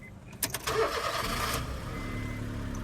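A car engine cranks briefly with a few clicks, then catches and settles into a steady low idle, heard up close.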